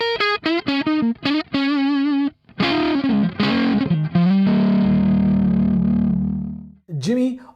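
Electric guitar through an EQ'd Marshall Plexi-style amp set for a warm, fat blues tone: loud, close bends and phrases ending in a long sustained note, with a brief speaking voice near the end.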